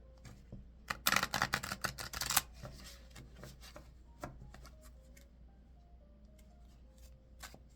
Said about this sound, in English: I'll give it one more shuffle, as I always do.